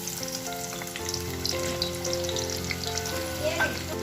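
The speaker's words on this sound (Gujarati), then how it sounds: "તેલ તપી ગયું છે, એની અંદર આપણે ડુંગળી એડ કરી દઈશું" Onions are added to hot oil for Hyderabadi chicken dum biryani and fry with a steady, close crackling sizzle, with light stirring clatter throughout.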